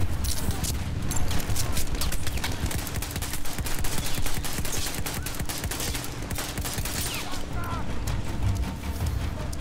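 Rapid gunfire from the Battlefield 1 video game, with bursts of machine-gun rattle and crackling shots coming thick and fast, close and sharp. Voices can be heard mixed in with the shooting.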